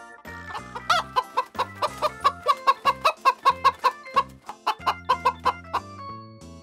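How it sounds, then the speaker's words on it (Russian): A hen clucks in a rapid run of about twenty sharp, evenly spaced calls, loud and close, with no talking. "Курица кудахчет."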